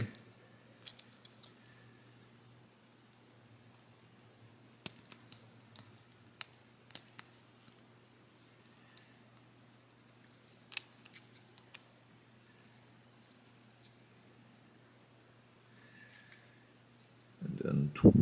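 Small plastic parts of a Transformers Legacy United Deluxe Class Origin Bumblebee figure click into place in scattered sharp ticks and snaps over a low steady hum, ending with a louder handling burst.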